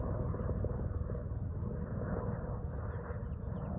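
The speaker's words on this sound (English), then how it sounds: "That's a helicopter" Helicopter flying overhead, a dense steady low rumbling thrum of rotor and engine noise that stays loud and constant throughout, with no talk.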